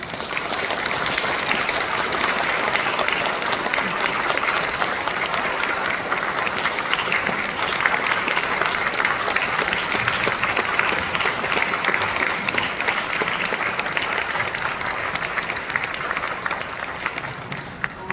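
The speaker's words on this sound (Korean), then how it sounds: "하나님께 영광의 박수를 드리겠습니다" Sustained applause from a large congregation at a World Day of Prayer church service, loud and even throughout, with steady clapping filling the whole stretch before tapering slightly at the end.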